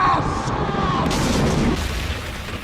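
Cartoon explosions from a My Little Pony season 5 premiere play as a loud, dense blast of noise lasting about two seconds before trailing off, with faint voices underneath.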